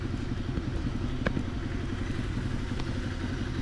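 A mini Land Rover Defender jeep's small engine chugs steadily at close range, a constant rattling thrum with faint knocks and no talk.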